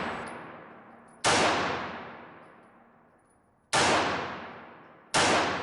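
A S&W Model 59 9mm semi-automatic pistol fires three loud, sharp shots a couple of seconds apart, each followed by a long, fading ring-out.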